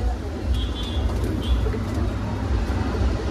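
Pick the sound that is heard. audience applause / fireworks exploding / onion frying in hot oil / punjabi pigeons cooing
punjabi pigeons cooing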